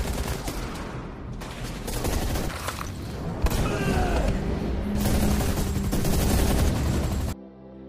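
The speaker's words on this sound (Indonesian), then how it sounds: "tiba-tiba adu tembak pun terjadi" Gunfire rings out in a shootout scene from an action film about a special forces squad, with dense bursts of rapid shots and booms layered over a rumbling score before an abrupt cut to quiet.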